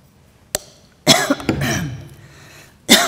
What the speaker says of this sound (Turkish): İyice öksürmem lazım yoksa tekrarlar.